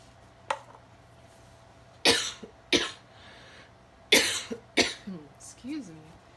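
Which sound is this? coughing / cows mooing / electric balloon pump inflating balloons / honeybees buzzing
coughing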